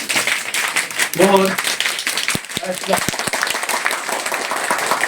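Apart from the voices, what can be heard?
group doing simsime clapping (rhythmic clap)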